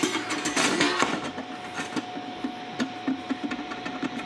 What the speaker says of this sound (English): Get our lid and our recirculation going. I'm using the Anvil XP pump.